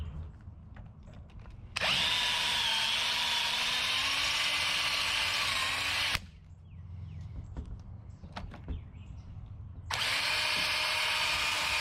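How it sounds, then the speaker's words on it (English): A power drill drills out a rivet on a VW Bus sliding door. Two loud, steady bursts of drilling come close up, with a quieter gap of clicks and handling noise between them. "we should be able to drill this rivet out to get this off"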